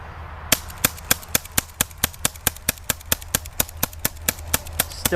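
An EliteForce CQB gas airsoft revolver fires a long, steady string of sharp snapping shots, about four or five per second and evenly spaced, near and loud with no talking.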